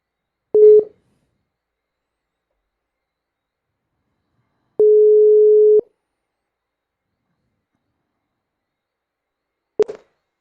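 Telephone call tones: a short beep, then a steady one-second tone, then another brief beep, each isolated in silence with no voices.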